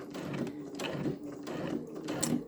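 A sewing machine fitted with an open toe foot stitches close by in a fast, even mechanical rhythm, its needle strokes repeating about every half second, with no voices.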